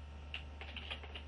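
Typing on a computer keyboard, a quick run of about half a dozen light clicking keystrokes, close and quiet, over a low steady hum.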